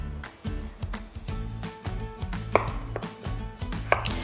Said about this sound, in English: Now cut this into cubes, about, let's say 2 inches is good.